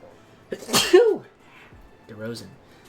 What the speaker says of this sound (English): As I sneeze, and I'm not cutting it out.